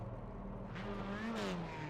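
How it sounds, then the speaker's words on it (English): Race cars in the iRacing video game, F4 open-wheel cars at Circuito de Navarra, rev their engines with rising and falling whining tones under a steady engine drone, the pitch sweeping upward briefly. "You can hear the cars starting to rev up."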